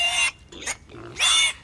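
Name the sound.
pig oinking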